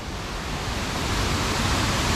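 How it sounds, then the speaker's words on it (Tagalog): Bayugin Falls in Bulusan, Sorsogon pours as a steady, loud, broadband roar of falling water, close and continuous without a break. "Dito na yung Bayugin Falls"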